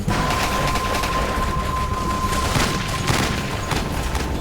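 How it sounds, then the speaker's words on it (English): Heavy mortar fire in a combat firefight between US Navy SEALs, Rangers and Al-Qaeda fighters: a dense, loud, continuous barrage of blasts and gunfire crackle, with sharper bursts standing out near the end. "They are under heavy mortar fire."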